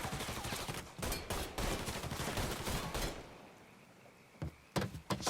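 Rapid bursts of gunfire fill a Mafia III firefight, dense and loud for three seconds, then thinning to a quieter lull before a few more sharp shots near the end.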